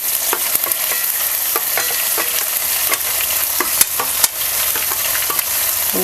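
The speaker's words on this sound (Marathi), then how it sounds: "तेल गरम झालेले आहे आपण यामध्ये जिरं घालूया आणि आता आपण इकडं हे मसाला पाट्यावरती वाटून घेतलं होतं ना ते घालायचं" Ground masala paste and cumin fry in hot oil for Kolhapuri misal, a steady close sizzle broken by stirring scrapes and sharp crackling pops, with no voices.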